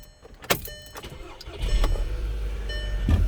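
A 2010 Volkswagen Jetta Wolfsburg engine starts with a sharp click and settles into a steady, low idle rumble close by, with a few light clicks over the hum and no talking.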